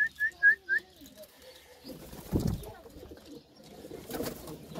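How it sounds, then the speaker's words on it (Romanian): Racing pigeons coo in a loft: a few short, soft calls at the start, then rustling and shuffling sounds. "Sunt în formă porumbei, zboară foarte bine."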